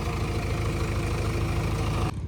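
Tractor engine idling and chugging nearby during soil hauling for a cricket pitch, a steady low rumble with rhythmic pulses that stops abruptly near the end.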